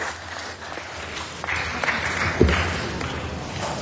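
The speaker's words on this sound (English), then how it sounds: "Let's give them a round of applause." Applause for the LAPD Centurion football team, a moderate crowd clapping at some distance, fairly steady with a few sharper claps and faint voices mixed in.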